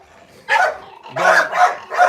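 Puppy barking in a prison puppy-training program: several sharp, loud, close yips and barks in quick succession after a brief quiet start.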